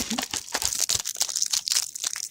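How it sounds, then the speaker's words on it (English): Dense crinkling and clicking from fake nails being handled and pressed on, close and continuous with small crisp taps, no voices. "we're actually gonna do ASMR of Rachel putting fake nails on"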